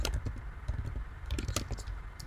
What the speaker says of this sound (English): So I can type in an address here.